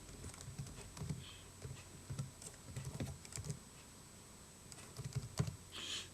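Computer keyboard typing Python code, a steady run of light, quick key clicks in uneven bursts with short pauses, fairly quiet and close, no voice.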